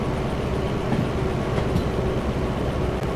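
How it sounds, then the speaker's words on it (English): A heavy freight train in the Derail Valley rail simulator rumbles steadily as it loses speed, with low mechanical drone, wheel noise and occasional clanks, continuous and close. "I can hear the train slowing down."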